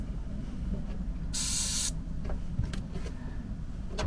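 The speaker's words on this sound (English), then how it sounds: "Let's spray a load of grease" Aerosol grease sprayed into the door of a Talbot Express van during a window and door handle repair, one steady hissing burst of about half a second, close up, over low workshop rumble with a few light knocks.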